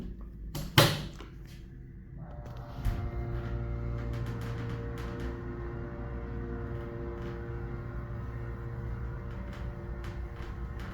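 An Otis hydraulic elevator door at the Zucker School of Medicine, Hofstra University, closing with a sharp thud, followed by a steady low mechanical hum and a drone from the running car.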